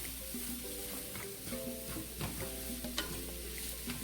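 Caramelized onions and other fillings for a vegan Philly cheese steak are stirred together in a pan, with a soft, continuous sizzle and occasional light scrapes of the spoon.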